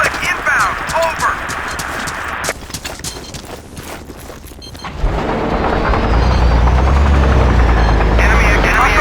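An enemy helicopter in Battlefield 2 approaches with a rhythmic rotor thump that grows louder and closer, mixed with gunfire and battle noise while voices talk over it.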